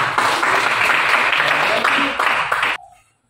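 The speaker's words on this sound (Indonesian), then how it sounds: "kita berikan aplaus untuk kelompok 2" A classroom group claps for about three seconds of dense, close applause that cuts off abruptly, leaving a faint trailing sound.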